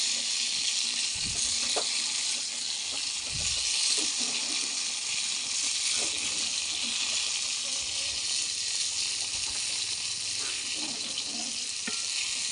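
Brinjal slices frying in a pan with Maggi masala sprinkled in, a loud, steady close sizzle and hiss throughout with occasional stirring clinks.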